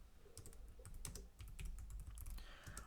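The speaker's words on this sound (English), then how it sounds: "so I'm going to type instead" Soft, quick typing on a computer keyboard, a steady patter of light key clicks with uneven rhythm, faint and close, with no voices.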